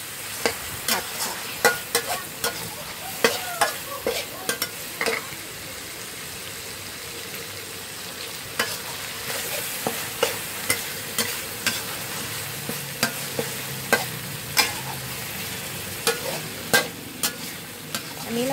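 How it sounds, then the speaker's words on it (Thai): A salty bean filling for Lao-style sticky rice wrapped in banana leaves is stir-fried in a pan. Steady sizzling runs under repeated rhythmic scrapes of the spatula, close and clear, with no voices. "ผัดค่ะ"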